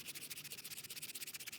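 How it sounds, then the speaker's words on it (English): A carved wooden spoon bowl, resting on carpet, is sanded by hand with 80 grit sandpaper, giving quick, rhythmic, raspy back-and-forth strokes that are close and fairly quiet. "it'll go quickly with this 80 grit sandpaper"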